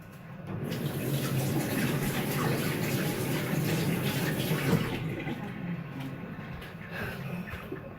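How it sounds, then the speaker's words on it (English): Hands are washed under a running kitchen tap while decorating a cake, a steady close rush of water for about five seconds that then tapers to a softer trickle, with no talk. "wash my hands."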